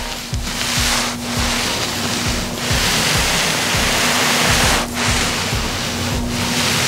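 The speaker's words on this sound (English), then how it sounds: "That's the towel rubbing against the surface." A towel rubbing across the neglected, mold-contaminated paint of a car makes a loud, continuous gritty scrubbing like sandpaper, with rhythmic strokes and a steady hum underneath, close to the microphone.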